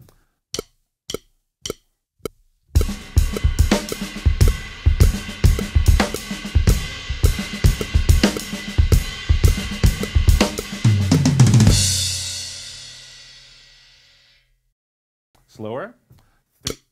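Drum kit playing a tight groove with ride cymbal strokes, preceded by a few sharp count-in clicks, then a steady busy pattern of kick, snare and cymbal that rings out and decays, followed by a brief faint sound at the end.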